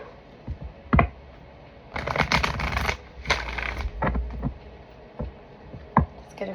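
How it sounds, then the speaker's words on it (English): Tarot cards being shuffled in quick riffling bursts, with a few sharp taps and pauses between rounds, close up. "Let's get a good shuffle."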